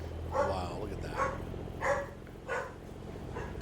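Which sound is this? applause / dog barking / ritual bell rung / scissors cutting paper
dog barking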